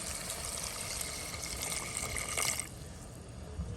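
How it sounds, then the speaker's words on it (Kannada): Water trickles and pours into a pot of fish curry. The liquid splashing is faint and steady, then it stops and leaves a quieter background. "ಸ್ವಲ್ಪ ನೀರನ್ನು ಹಾಕ್ತಾ ಇದ್ದೀನಿ"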